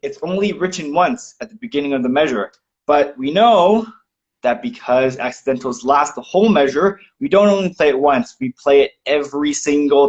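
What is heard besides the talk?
No everyday noises stand out.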